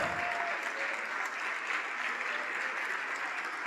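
A church congregation claps during a sermon as people are called forward, a steady, continuous patter of many hands, soft and somewhat distant, with a brief tonal hum early on.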